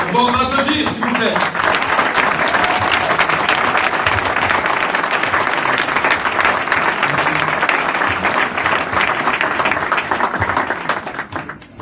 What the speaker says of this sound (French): Bon, on va applaudir, s'il vous plaît.